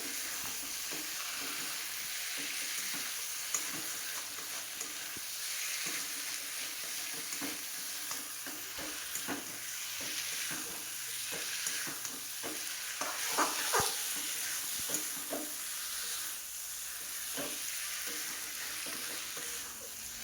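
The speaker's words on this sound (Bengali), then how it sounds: "আমি আরও কিছুক্ষণ মশলার সঙ্গে এদেরকে মিশিয়ে নিই পটল আলু আর চিংড়ি দিয়ে" Pointed gourd, potato and prawns sizzle steadily in spiced oil, a constant frying hiss with intermittent scraping stirs throughout, no talking.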